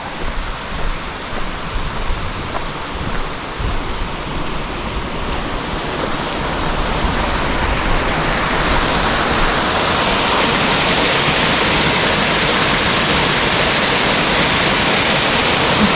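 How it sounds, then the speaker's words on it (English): A small waterfall beside the Pacific Crest Trail pours in a steady, broadband rush that grows slightly louder partway through, close and continuous with no voices. "We've got a lovely little waterfall"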